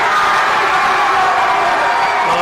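A loud, continuous roar of cheering and shouting rises from a big crowd at a junior rugby league A Grade grand final between South Eastern and Matraville, steady and dense throughout without a break.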